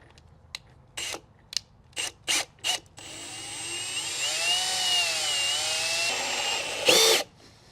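A power drill driving screws into a deck board: several short whirring bursts, then a long continuous drive with rising and falling motor pitch and a brief louder burst at the end, with no talking.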